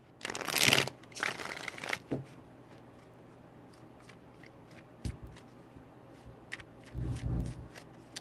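Tarot cards being shuffled by hand, two quick riffling bursts close by, followed by softer card handling and light taps at a low level.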